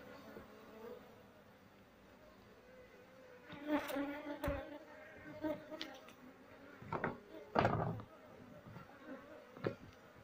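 Honey bees buzz close by in uneven swells during a hive transfer, the drone rising and fading around faint background noise, with quiet talk nearby.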